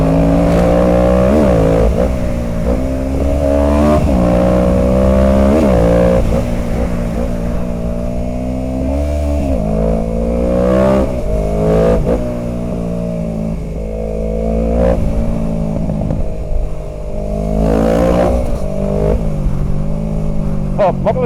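A two-cylinder Suzuki motorcycle engine revs loudly and steadily for about twenty seconds, its pitch rising and falling, with a voice talking over it.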